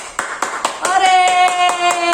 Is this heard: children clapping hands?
yes